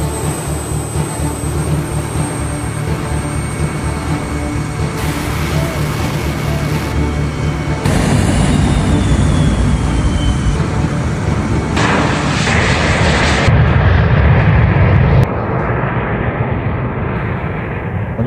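An L-29 Delfín jet roars loudly and continuously, its broadband engine noise building and shifting in tone as the aircraft takes off and heads away, with no talk over it.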